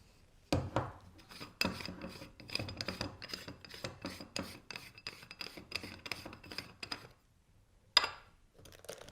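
An aluminum cylinder package is opened and handled, with a run of scraping, rasping metal rubs and taps, quiet and close, ending in a short pause and one sharper clink.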